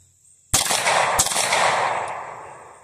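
Two sharp pistol shots ring out close and loud, about half a second apart, each trailing off into a long echoing decay, with no talk.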